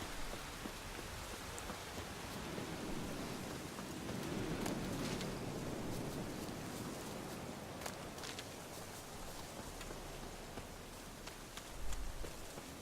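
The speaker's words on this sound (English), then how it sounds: "Looks like rain." Steady, dense video game rainfall in The Witcher 3: Wild Hunt hisses evenly throughout, with scattered louder drops tapping nearby and no voices.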